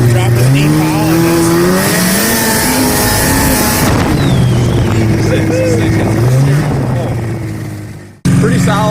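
A 1985 Yamaha Phazer snowmobile engine revs hard while being ridden, its pitch climbing and falling through several loud, close surges before cutting off abruptly near the end.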